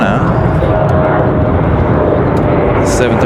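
A Delta airliner departs Raleigh-Durham airport, its loud, steady broadband jet roar filling the whole stretch without letup.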